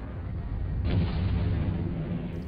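Simplistic software-rendered explosion in a video game running on a Pentium MMX 200 MHz, a dense low rumbling boom that swells after a moment and sustains loudly for the rest, with no talk.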